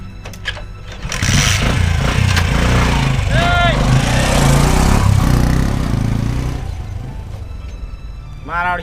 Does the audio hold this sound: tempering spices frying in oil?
no